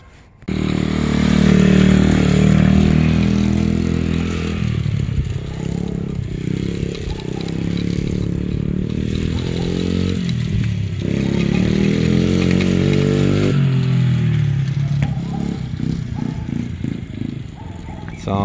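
A 2010 Baja DR50xr dirt bike with a 19 mm carburetor, not yet running right, idles and revs close by, a loud continuous buzzing engine note that rises and falls with throttle changes throughout.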